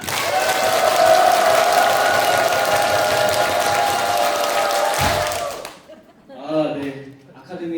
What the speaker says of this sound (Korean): 박수 시작!